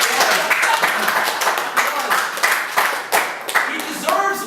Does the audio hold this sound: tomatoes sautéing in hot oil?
no